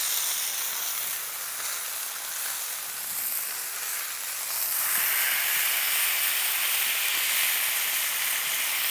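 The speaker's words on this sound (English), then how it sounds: "Oh, you can hear that sizzling?" Smashburger patties sizzle on a hot griddle in a constant hissing crackle that grows louder and brighter halfway through, with no talking.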